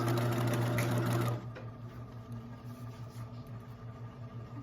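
Sewing machine stitching a romper seam, a loud steady motor hum that drops to a quieter, pulsing run after the first second, close and alone with no talk.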